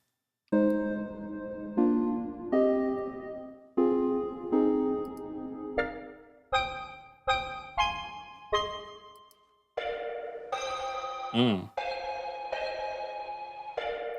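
The Hensive 2 synthesizer plugin plays a bright melody alone: sustained chords, then a run of short plucked notes, ending with a warbling, pitch-bending lead line.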